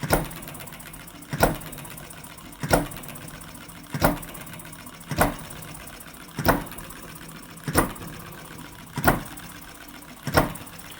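A Retrol HM-01 hit-and-miss model engine runs under load, giving a regular firing thump about every 1.3 seconds between quieter mechanical whirring, close and moderately soft.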